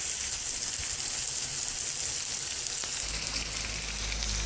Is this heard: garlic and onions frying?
yes